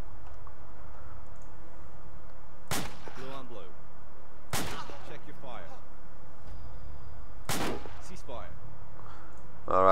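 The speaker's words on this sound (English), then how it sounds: "I'm just gonna shoot at this poor soldier in front of me until he's passing out" Three sharp rifle shots in the military video game ARMA 2, fired at a soldier, cracking out at irregular intervals a couple of seconds apart, each with a short echoing tail over a quiet ambient background.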